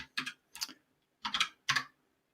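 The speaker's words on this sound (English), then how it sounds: "you would not believe how hard it is to type on a Cyrillic keyboard" Keystrokes on a computer keyboard with Cyrillic layout, four short bursts of clicky typing spaced unevenly, close and clear with silence between.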